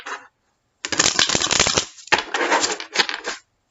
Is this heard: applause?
no